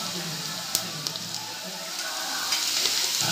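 Whole spices such as cinnamon, clove, bay leaf, star anise and fennel seeds frying in hot oil for a Diwali mutton biryani, a continuous crackling sizzle with sharp pops and stirring, a voice talking underneath.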